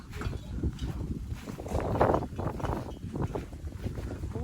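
Cool late-season wind blows outdoors, buffeting the microphone in rough, uneven gusts that swell near the middle, with no one talking.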